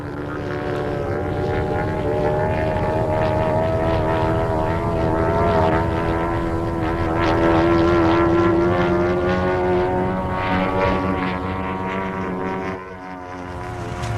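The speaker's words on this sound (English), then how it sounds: "That plane." A model airplane in flight, its small propeller engine buzzing steadily and fairly loud, pitch wavering slightly as it passes, swelling near the middle before dropping off at the very end.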